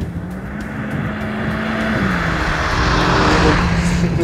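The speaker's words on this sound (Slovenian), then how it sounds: "Tale motor konkretno vleče." A 2015 Alfa Romeo Giulietta Quadrifoglio Verde with the 1750 TBi turbo engine and TCT gearbox pulls hard, its loud, steady engine roar droning and building slightly, heard close with no talking.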